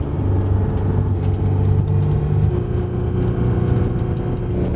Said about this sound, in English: I just don't like the high rev sound.